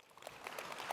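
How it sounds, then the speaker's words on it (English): Audience at a business conference session claps briefly, a soft scatter of individual hand claps building into faint, quiet applause. "Big round of applause one more time"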